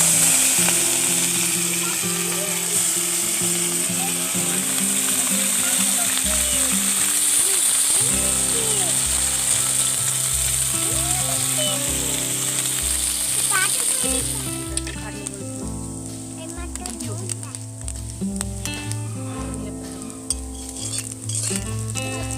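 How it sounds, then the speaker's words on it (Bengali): Small fish rubbed with salt and turmeric fry in hot oil on a clay stove, giving a loud, steady sizzle and crackle. Tonal background sound plays underneath, and the frying eases a little toward the end. "এইখানে উনুনে তেল গরম হচ্ছে, মানে তেল গরম হয়ে গেছে, আর মাছটা ভাজা করে নেবে"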